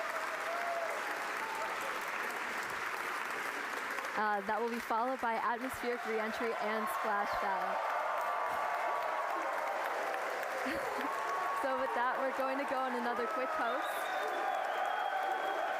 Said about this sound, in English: Everyone cheering.